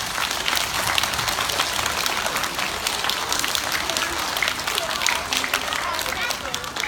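Steady, dense applause from an audience at a school heart-health presentation, loud and continuous for about seven seconds, filling the room without pause.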